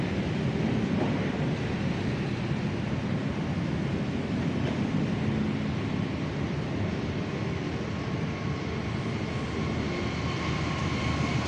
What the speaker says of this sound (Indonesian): Oke, ada kereta api jarak jauh nih.